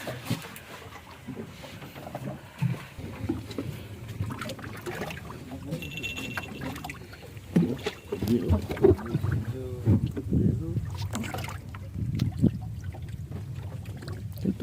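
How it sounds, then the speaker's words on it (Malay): Ambience inside a fishing boat at sea off Bagan Lalang: a low rumbling wash of engine and water that swells unevenly, with people talking and calling out nearby. "Inilah suasana dalam bot."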